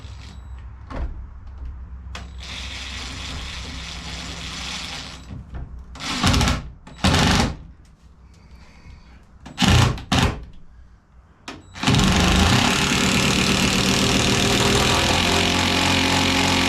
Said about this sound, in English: The impact wrench hammer attachment for the Black & Decker Matrix is amazing.